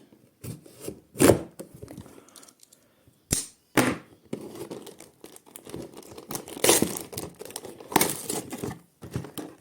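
Box of a Lego Technic 42198 cargo plane set being opened by hand, with bursts of cardboard tearing, crinkling packaging and sharp snaps, loud and close, in irregular clusters over nearly ten seconds.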